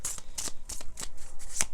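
A Lenormand deck of cards being shuffled by hand: quick, close riffling flutters in a rapid uneven rhythm for under two seconds, with no talking.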